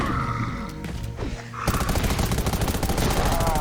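Rapid, dense gunfire from the video game Undawn breaks out partway through, a steady rattling burst that carries on to the end after a quieter stretch with game effects.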